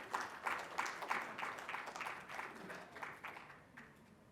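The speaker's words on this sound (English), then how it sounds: "A big round of applause for ma'am, please." Summit attendees applaud a school principal: faint, fairly thin clapping from a modest audience, steady at first and gradually tapering off.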